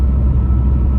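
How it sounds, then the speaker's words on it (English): Freeway traffic heard from inside a car as a steady, loud low-frequency road rumble and engine drone, with no voices. "I know that you can hear all of the noise of the freeway right now."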